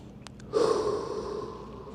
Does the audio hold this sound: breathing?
yes